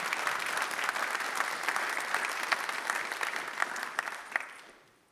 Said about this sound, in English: Or a round of applause.